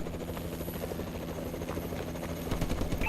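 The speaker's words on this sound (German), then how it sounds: "Feindliche Drohne über uns." An enemy drone whirs overhead in Call of Duty: Advanced Warfare, a continuous rotor-like buzz with rhythmic chopping that holds steady throughout.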